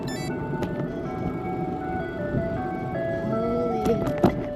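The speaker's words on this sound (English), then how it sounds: "I hear an ice cream truck." An ice cream truck's chiming jingle melody plays steadily over a forest road, mid-distance, with a passing vehicle's rumble underneath and a couple of brief sharp knocks near the end.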